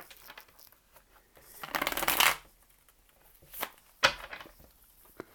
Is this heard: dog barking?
no